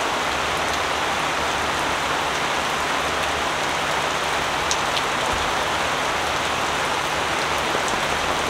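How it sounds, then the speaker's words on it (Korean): Heavy rain drums steadily on a tent at a rainy campsite, a dense, close, unbroken patter with a few louder drops standing out. "비가 점점 더 많이 와."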